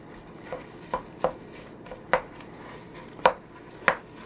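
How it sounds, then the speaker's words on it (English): A spoon mashes and breaks up a whole tube of sausage meat in a pan, giving about eight sharp, evenly spaced knocks against the pan, close and fairly loud, with no talk. "you just take your spoon and just break up the whole tube of sausage"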